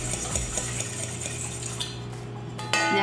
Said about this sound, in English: I'm gonna crack my egg. A nice solid crack, and I'm going to whisk that up.